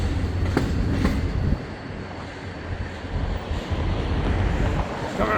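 An Amtrak passenger train rumbles past at a train meet, a loud, continuous roar of rolling cars with faint rail clatter and brief squeals, close to the listener and steady throughout.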